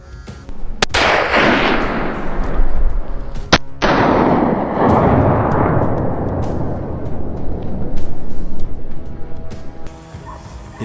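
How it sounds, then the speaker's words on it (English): Rifle shots fired at a feral wild boar on California farmland: two loud, sharp cracks a few seconds apart, each followed by a long rumbling echo that slowly fades. "With a single shot, the beast collapsed on the spot."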